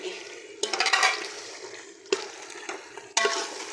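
Keema with chopped onion and tomato fries in a pan for aloo matar keema, a steady sizzle broken by three bursts of stirring and scraping, close and moderately loud, with no talk.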